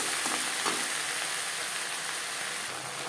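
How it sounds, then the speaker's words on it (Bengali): Sliced okra sizzles in hot oil with a spice tempering, a dense and steady frying hiss close up, with faint scrapes from stirring and no talk. "ফোড়নের সাথে ভেন্ডি বেশ ভালো করে মিক্স করে দেবো।"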